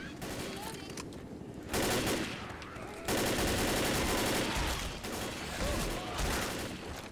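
Repeated gunfire from the zombie co-op shooter Left 4 Dead, played on the Crash Course campaign, with loud bursts of shooting and game noise running throughout and a player talking over it.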